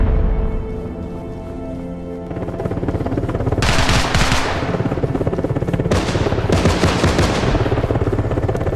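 Sustained gunfire from friendly forces in contact during an urban assault in the video game Arma Reforger, with rapid bursts and overlapping shots rolling continuously, growing denser and louder after the first few seconds, with no talk.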